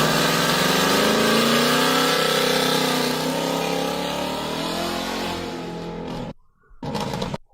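An engine-swapped car accelerates hard, its loud engine note rising steadily in pitch, then fading away before a short final burst of noise.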